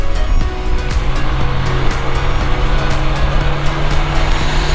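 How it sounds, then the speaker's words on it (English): A water truck's heavy engine rumbles loudly nearby with steady road noise as it rolls past at close range in a small Thai village. "There's a water truck on top of that."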